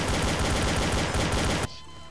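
Rapid, continuous gunfire from a Garry's Mod DarkRP match fills the clip at close, loud range, then cuts off abruptly near the end, leaving a quiet tail.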